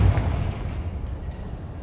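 Fiery Confringo spell explosion in Hogwarts Legacy, a single deep booming blast at the start that quickly decays into a low rumbling tail.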